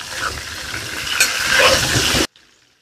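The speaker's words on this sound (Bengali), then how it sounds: "আলুটা আস্তে আস্তে ভাজি হইব, সিদ্ধ হইব" Potatoes fry in a pan with a loud, close, dense sizzle and crackle that swells slightly, then cuts off abruptly near the end.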